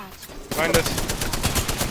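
Close, rapid automatic gunfire from enemies in the video game Apex Legends breaks out suddenly and continues as a dense, steady stream of shots.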